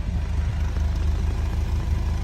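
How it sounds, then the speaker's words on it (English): A BMW 1 Series with a resonator-deleted exhaust idles while warm, a low, steady, even burble that stays close and fairly quiet throughout the short stretch, with no other sounds. "this is what it sounds like idling."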